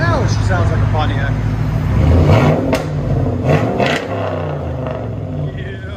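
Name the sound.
1998 Pontiac Firebird 5.7L V8 LS1 straight-pipe exhaust revving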